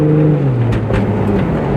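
Plymouth Prowler engine driven up through the gears, a loud close exhaust drone with the pitch falling as it shifts, a quick gear change and throttle blips, no talking.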